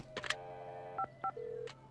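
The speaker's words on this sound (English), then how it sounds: "I have to make a phone call." A telephone is dialed for a call, giving a short series of distinct touch-tone beeps of varying pitch over faint background hum, with a few clicks at the start.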